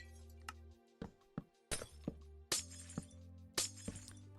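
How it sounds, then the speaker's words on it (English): Minecraft glass blocks breaking, a run of sharp crackling shatters at uneven intervals, each a short bright burst over a quiet low hum, no talking. "Apologize for the breaking glass sound."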